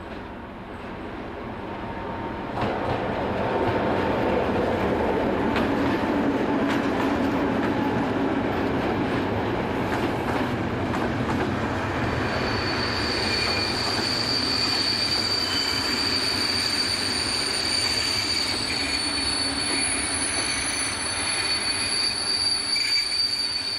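A Slovak locomotive-hauled passenger train arrives at a station, its wheels squealing in long shrill tones over rumbling wagons and clicking rails, loud and close for most of the time.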